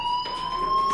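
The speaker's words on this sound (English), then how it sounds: "Hey, do you hear that fire alarm?" Steady electronic fire alarm tone in Life is Strange, a loud continuous ringing beep that holds unbroken through the moment, close and insistent with no talking.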